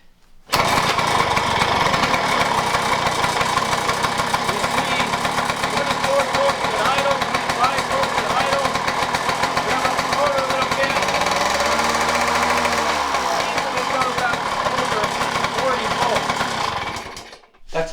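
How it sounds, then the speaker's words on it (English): A 45-year-old motorcycle engine starts and runs steadily for the whole stretch, a loud, continuous rattling drone with a slight dip partway through before cutting off at the end. "Start the motor now."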